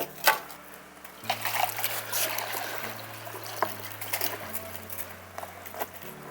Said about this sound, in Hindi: ये पानी को इधर मैं ज़ाया कर देता हूँ यार, काफ़ी ज़्यादा गर्म पानी है।